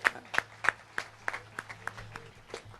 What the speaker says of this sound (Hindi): एक बार इन सब बच्चों के लिए तालियां बजाइए